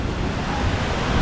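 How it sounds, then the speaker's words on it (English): Wind gusting along a busy Makati street in the Philippines, a close, steady roar of buffeting against the microphone with no voices. "Whoa, windy."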